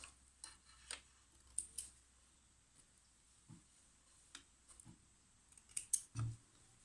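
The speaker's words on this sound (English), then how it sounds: "trim your threads" Scissors snipping threads while sewing a shaped fabric mask, a handful of quiet, close, sharp clicks spaced irregularly, with a slightly louder cluster of snips near the end.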